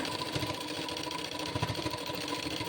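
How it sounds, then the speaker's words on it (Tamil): A sewing machine stitches a simple blouse with a continuous, close, rapid mechanical hum and needle patter throughout. "இப்போ வந்து நான் இன்னொரு ஸ்டிச்சஸ் போட்டுட்டு"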